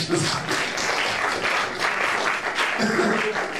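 A church congregation applauds in praise of the Lord, a dense, steady clapping that fills the room and carries on throughout, with voices murmuring underneath.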